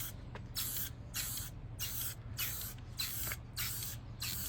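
A spray can is used on a 1950s ILG Model 83 fan, short hissing bursts of about a half second repeating in an even rhythm, close and clear against a low background hum.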